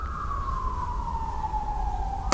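An emergency vehicle siren passes by outdoors, a single steady wailing tone that slowly drops in pitch as it moves away, heard at a moderate distance over low background rumble, with no talking.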